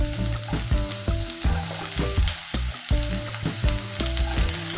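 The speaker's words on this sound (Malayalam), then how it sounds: "നമ്മുടെ എണ്ണ നന്നായിട്ട് ചൂടായി വന്നിട്ടുണ്ട്. ഇതിലേക്ക് നമ്മൾ ആദ്യം ഗാർലിക്കാണ് ആഡ് ചെയ്ത് കൊടുക്കുന്നത്." Garlic sizzles and fries in hot oil in a pan for fried rice, a steady crackling hiss with repeated stirring clinks and scrapes close by, no talk.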